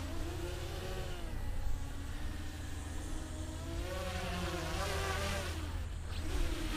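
An XK X252 RC aircraft flies nearby with a continuous high insect-like buzz of small motors, its pitch rising and falling as it maneuvers and throttles.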